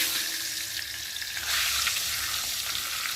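A large fish head fries in hot oil with turmeric powder, giving a dense, continuous sizzle and crackle close up, with a brief surge partway through.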